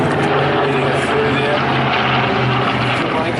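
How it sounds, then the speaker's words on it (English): WWII warbirds flying in at Warbirds over Wanaka, a Grumman Avenger and two P-40s, a loud steady propeller engine drone throughout, with an announcer talking over it. "The Avenger, the two P-40s, Keith Skilling bringing up the round on the"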